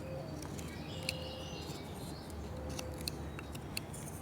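Quiet knife-only whittling of carved hair in wood, a stop cut then a relief cut: soft close scraping with a few sharp little clicks and snips over a low steady background hum.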